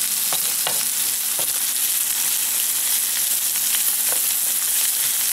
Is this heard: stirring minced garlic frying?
yes